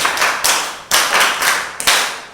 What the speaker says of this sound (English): Can you clap yourself?